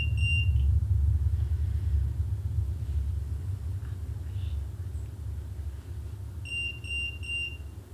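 An alarm beeps in short high repeated bleeps at the start and again in a quick series of four near the end. The beeps sound over a heavy steady rumble, moderately loud, with no voices.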